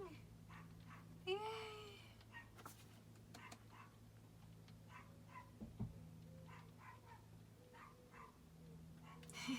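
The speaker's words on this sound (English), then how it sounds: "the dog's barking at the mailman." A dog barks at a mailman indoors, giving a few faint, far-off yips and barks under a low household hum, with soft voices murmuring nearby.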